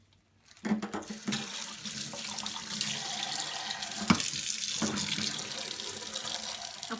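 Tap water running into a sink while a reborn doll's hair is rinsed, starting abruptly after a moment of quiet, then a steady close splashing stream with small shifts as the head is moved under it.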